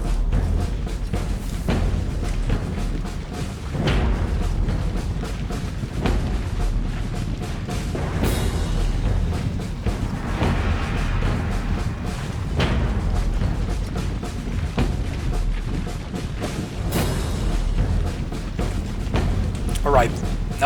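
Cannon and artillery fire in a video game battle against an empire, with repeated booms and thuds over a constant battle din, while someone talks through most of it.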